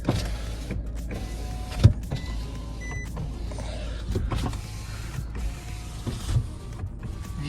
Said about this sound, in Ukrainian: дзеркала у нас регулюються